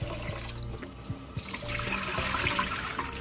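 Kitchen tap running into a pot while rice is rinsed for buttered steamed rice, a steady stream of water with splashing and clinks of grains and container, growing fuller midway, close by and without talk.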